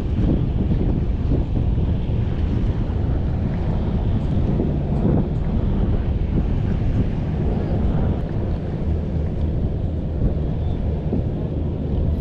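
Strong kite-season wind at a sandy fishing spot in Benoa, Bali, roaring steadily and loudly against the microphone throughout, with a possible wash of water beneath.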